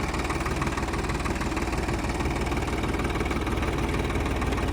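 A Swraj tractor engine idles steadily at mid pitch while powering a potato digging machine in a field, a constant close rumble with vibration and no talk.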